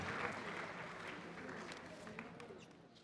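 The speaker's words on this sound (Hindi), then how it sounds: "एक बार ज़ोरदार तालियां होनी चाहिए ज्ञानेश्वर सर के लिए" An audience at an anniversary event applauds a newspaper editor, steady moderate clapping from a crowd heard somewhat distant and faint, with no voices over it.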